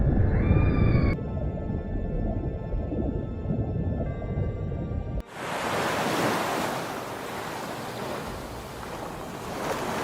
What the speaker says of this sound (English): the pilot whales keep charging forward, sending out constant warning calls